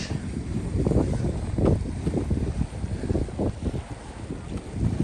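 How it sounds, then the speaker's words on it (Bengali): Gusty sea wind buffets the microphone in low rumbling waves on a seashore, with a steady outdoor wash like nearby surf underneath. "কি সুন্দর বাতাস,"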